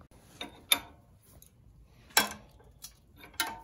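Sharp metallic clicks and clanks of a 19 mm wrench working a cable adjustment nut during a Honda kit installation, a few separate close taps and ratcheting ticks spaced apart in a quiet room.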